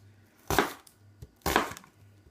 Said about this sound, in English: So I'm chopping up an onion now